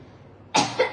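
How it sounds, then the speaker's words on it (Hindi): A woman with a two-week illness, in a tuberculosis health setting, gives one sudden, loud, harsh close cough that breaks off and then comes again, after a quiet moment. "बहुत ज्यादा खांस रही है"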